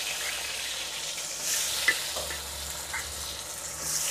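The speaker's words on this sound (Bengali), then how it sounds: "প্রথমে পটলগুলোকে ভালো করে ভেজে নেব।" Pointed gourd pieces coated in salt and turmeric frying in white oil in a wok, a continuous close sizzle with a faint knock or two of stirring.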